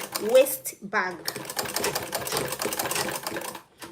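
A sewing machine runs in quick, steady stitching bursts while a waist bag is being sewn, and someone talks over the rattling motor throughout.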